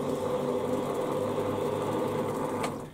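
A Warco lathe running steadily while taking a thread cut, with a constant mechanical whir and hum from motor and gearing, loud and close with no voices, easing off slightly at the very end.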